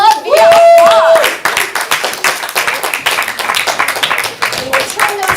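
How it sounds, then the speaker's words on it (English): Comedy improv show audience clapping, starting under a shrill whoop and then breaking into a loose patter of separate hand claps of uneven rhythm, fairly close. "show them some love via applause"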